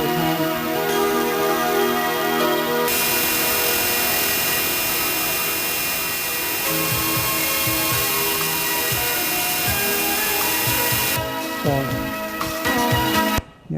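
TRS-IO retro computer sound over HDMI, with an aliasing filter switched in and out, gives a loud, harsh buzzing tone with dense noisy overtones that abruptly changes in brightness as the filter toggles.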